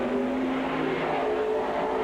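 Race cars circle Silver Spring Speedway, several engines blending into a steady, moderately distant roar with no clear pass-by, no voices.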